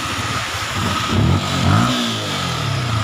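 A stock Yamaha Sniper 155 VVA motorcycle engine, close by, starts and rumbles steadily, then revs up twice in quick swells before settling back to a smooth idle.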